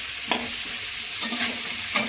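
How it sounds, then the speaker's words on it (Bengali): Cauliflower florets frying in hot oil in a pan, with a steady sizzle and a few sharp scraping stirs against the pan, close and alone with no voices. "আমার কপি ভাজা হয়ে গেছে,"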